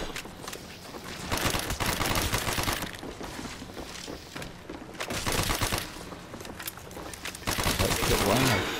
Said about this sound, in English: why am I shooting? You don't have to shoot them